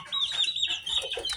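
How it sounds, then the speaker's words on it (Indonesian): Laying hens clucking and squawking up close, a continuous busy chatter of several birds with no talking. "ini adalah ayam petelurnya itu."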